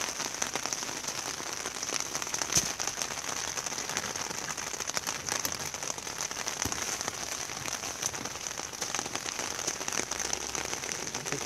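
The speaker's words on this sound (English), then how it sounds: "Don't park me because, like I said, it's raining." Steady rain falling and pattering on surfaces around a parked 2007 Chevrolet Silverado, a dense continuous hiss with occasional sharper drop taps, no talking.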